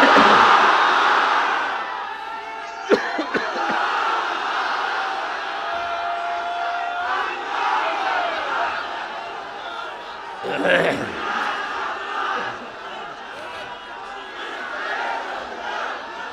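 A large crowd at a Bangladeshi Islamic political rally roars a massed chanted response to a takbir call, loud and sustained throughout with surging swells of voices.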